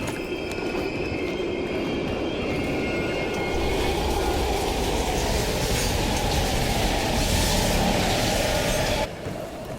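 Train rushing past in the video game Call of Duty: Black Ops Cold War, a loud, steady rumbling roar of wheels and carriages with high metallic squealing, building slightly before cutting off abruptly near the end.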